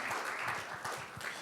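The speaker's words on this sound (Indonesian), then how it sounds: "Berikan tepuk tangan Bapak Saudara." A church congregation at a Sunday afternoon service applauding together, a steady mid-distance rush of many hands clapping with a few louder individual claps standing out, no speech over it.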